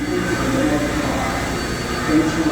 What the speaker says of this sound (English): this train is not going to go as fast as you think